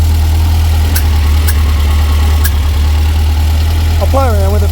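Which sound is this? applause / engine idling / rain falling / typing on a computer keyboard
engine idling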